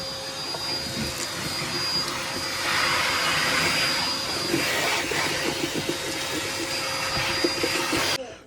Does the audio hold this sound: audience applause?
no